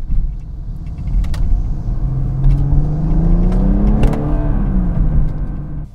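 A Dinan-tuned 2016 BMW 340i xDrive with over 400 bhp accelerates in third gear under manual shifting, its engine note climbing steadily in pitch over a loud, constant cabin rumble, with no talk.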